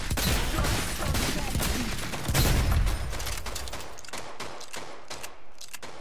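Rapid bursts of DMR rifle fire in the shooter game Rogue Company, a dense volley of sharp shots over the first seconds, then scattered, distinct cracks continuing to the end.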